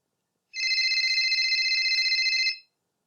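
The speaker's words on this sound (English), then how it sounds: "telephone ringing" A telephone rings once in a single continuous trilling electronic burst lasting about two seconds, with silence before and after. The ring is clear and steady.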